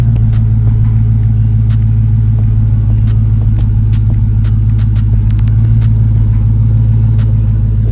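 A Camaro SS or Dodge Charger Scat Pack muscle car on stock exhaust runs close and loud. It holds a deep, steady engine rumble with no change in pitch throughout.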